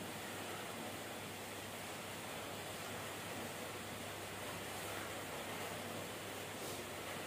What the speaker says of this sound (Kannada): ಇವತ್ತು ಸ್ವಲ್ಪ ಮಳೆ ಜಾಸ್ತಿ ಇದೆ